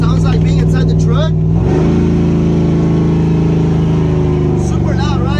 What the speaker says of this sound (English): So this is what it sounds like being inside the truck.